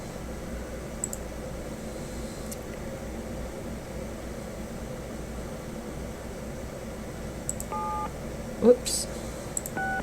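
Touch-tone dialing beeps sound faintly in the Nancy Drew game Shadow at the Water's Edge, a few short tones near the end over a quiet hiss, with a brief spoken exclamation.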